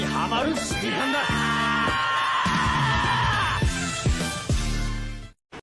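Animated characters scream in a long, high, strained shriek mixed with shouting voices and sharp accents, all loud and close, ending in sudden silence.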